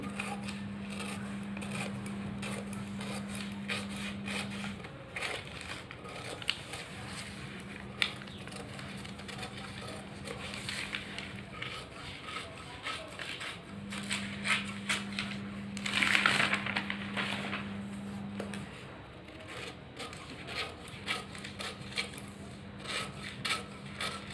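Scissors cut through a paper pattern for a size 34 blouse, giving a steady close rustle and rasp with a louder crunching burst partway through, over a low constant hum and no talking.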